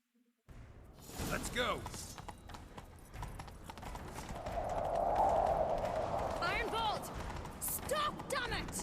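Horse hooves clip-clopping at a gallop in The Witcher 3 during a chase, a steady driving rhythm that swells midway, with a whinny and voices shouting over it.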